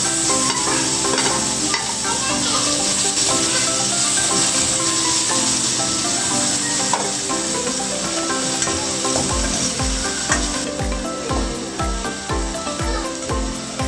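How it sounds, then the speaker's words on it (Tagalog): Tomatoes sautéing in a pan with a steady loud sizzle and hiss of frying, stirring scrapes running throughout, and a few soft clunks near the end. "Lalagay ko na rin po itong kamatis."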